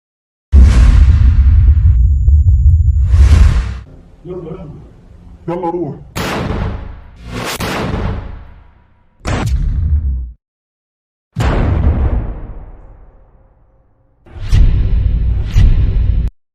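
.50 caliber sniper rifle fire in Gaza, heard as several loud, separate booming shots with long rolling echoes and decays, spaced a few seconds apart, with blasts and whooshes between them and voices at times.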